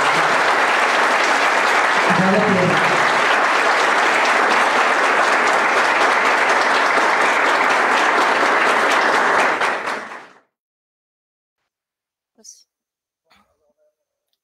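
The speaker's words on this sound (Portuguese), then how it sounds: "peço uma salva de palmas bem forte para aqui" Sustained loud applause from a large crowd at a formal council ceremony, about ten seconds of dense clapping that cuts off abruptly, with a brief voice partway through.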